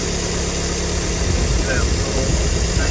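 A Mazda Miata NA engine on Megasquirt or SpeedyEFI idles steadily with ignition timing set at 14 degrees, a continuous low rumble with light vibration close by.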